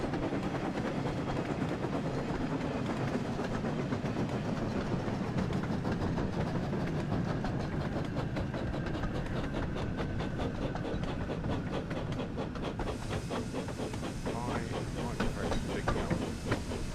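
A diesel engine train running in the Thomas and Friends video game, a steady rumbling roll with rhythmic clicking that holds loud and continuous throughout, with a brighter hiss entering near the end.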